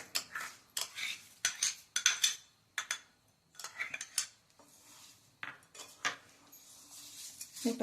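Lemon pickle pieces stirred with sugar in a bowl, giving repeated scraping clinks of a spoon against the dish in short uneven strokes, close and fairly quiet, with no talking.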